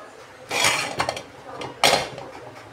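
A metal lid set onto a cooking pot in a home kitchen, giving two clattering metallic clanks about a second apart with small rattles between, close and fairly loud, no talking.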